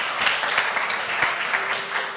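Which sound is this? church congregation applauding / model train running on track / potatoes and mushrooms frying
church congregation applauding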